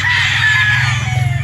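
A bulik rooster crossed with Sweater Boston crows once, a loud close strained call held for over a second over a low steady hum.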